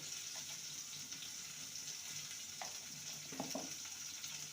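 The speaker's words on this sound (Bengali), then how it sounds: "পেঁপেটাকে ভেজে নেব দিয়ে দেবো সামান্য হলুদ গুঁড়ো আর সামান্য লবণ" Papaya frying in a pan with turmeric and salt gives a steady, soft sizzle, with a few brief clinks and stirring scrapes over it, close and fairly quiet, with no speech.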